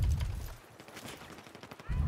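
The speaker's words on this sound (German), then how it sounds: "Wo, da wird geschossen." Gunfire bursts from a Battlefield 4 match, heavy low thumps at the start and end of the stretch with a quieter rattle in between, someone talking over the middle.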